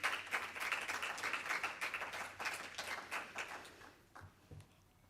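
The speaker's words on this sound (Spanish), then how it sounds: "Recibamos con un fuerte aplauso a Tomás Vázquez Delgado." A modest audience at a youth healthy-relationships conference claps to welcome a speaker. The individual claps are distinct and fairly close, then thin out and fade to a few scattered last claps.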